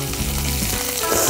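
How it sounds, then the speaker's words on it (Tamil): Chopped onions fry in a pan with a loud, continuous, close sizzle that fills the short stretch without pause. "இப்போ நான் வந்துட்டு சாப் பண்ணியிருக்கிற ஆனியன்ஸ் போட்டுட்டுருக்கேன்"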